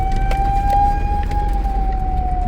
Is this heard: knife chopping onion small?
no